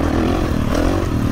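2023 Kawasaki KX 450 dirt bike engine running smoothly on a ride, a steady mid-pitched buzz with light mechanical clatter, close and fairly loud with no talking.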